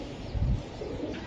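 Racer pigeons in a club loft coo faintly under a constant hiss of room noise, with one fuller low coo near the middle.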